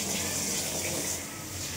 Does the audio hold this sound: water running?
yes